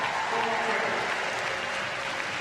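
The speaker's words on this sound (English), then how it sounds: "And a big cheer from the crowd as well." A crowd cheers and applauds in a broad, steady roar at a para swimming race at the 2019 World Para Swimming Championships in London, while a commentator talks over it.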